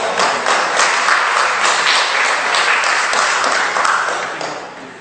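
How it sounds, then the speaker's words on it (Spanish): An audience at a spiritual seminar breaks into loud, sustained clapping from many hands, which holds steady and then fades toward the end. "Juan, de la ONG, el médico Efraín Gómez, un gran fuerte aplauso."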